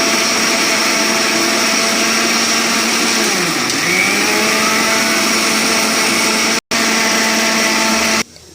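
An electric mixer grinder whirs loudly and steadily as it grinds corn, coriander and raw spinach, its pitch dipping briefly under load, then cuts out near the end.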